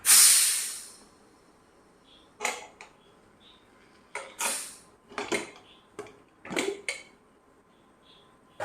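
A pressure cooker holding a plantain and bean curry lets out a loud hiss of steam as it is opened, fading over about a second. Clinks of the metal lid and utensils follow in short, sharp bursts.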